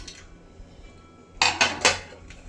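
A metal pressure cooker is set down on a gas stove in a kitchen, giving three sharp clanks in quick succession after a quiet pause, followed by a faint clink.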